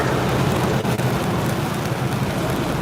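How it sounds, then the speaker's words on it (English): Heavy rain pours down steadily around a truck, a dense, even hiss of drops drumming on surfaces with no pauses and no voices. "Rain."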